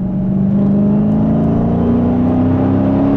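A 2016 Dodge Challenger Scat Pack accelerates in a higher gear from inside the cabin, its engine a loud, steady low drone whose pitch climbs slowly and smoothly throughout.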